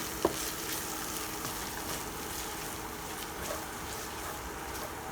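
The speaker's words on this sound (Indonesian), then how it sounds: "Ini tumis sampai tercium bau harumnya ya." Bumbu spice paste for soto sautéing in a pan over low heat, a steady soft sizzle with faint stirring scrapes, fairly quiet and continuous with no talk.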